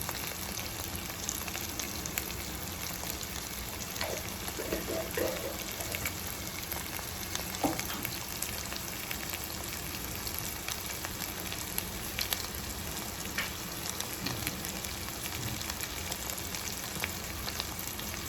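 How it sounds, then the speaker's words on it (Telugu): Goat brain frying with chilli in a pan, rendered as a steady, low, close sizzle running throughout with faint scattered crackles and no voices. "కొంచెం ఫ్రై అయిపోతుంది"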